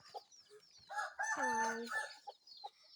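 Backyard chickens kept for cockfighting clucking nearby, with a rooster crowing loudly through the middle, its long call rising and falling over a couple of seconds.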